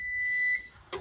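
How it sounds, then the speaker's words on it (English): Oven timer sounds a single sustained electronic beep, clear and fairly close in a quiet kitchen, followed by a brief clatter. "the timer has gone off"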